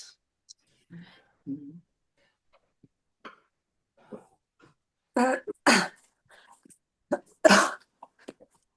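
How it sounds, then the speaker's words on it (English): A few short, sharp coughs close by, with soft breathy murmurs and quiet gaps between them. "I just have this cough"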